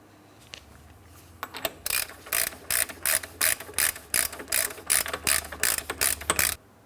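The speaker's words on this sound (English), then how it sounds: "Now to tighten this, I'm going to be using a hand tool." A hand ratchet clicks in steady rapid bursts, about a dozen strokes, while tightening the front axle nut on a 2004-2008 Pontiac Grand Prix; close and clear with no talking.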